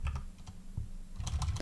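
Soft clicking of keys on a computer keyboard, a handful of quick irregular presses over a moment of quiet room tone.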